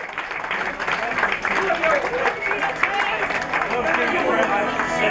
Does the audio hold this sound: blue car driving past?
no